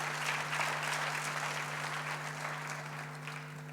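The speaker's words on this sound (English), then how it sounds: "Graduates, let's applaud our academics and our support staff." Sustained applause from a graduation ceremony audience honoring academics and support staff, steady broadband clapping throughout at moderate level, slowly easing toward the end, with a steady low hum running underneath.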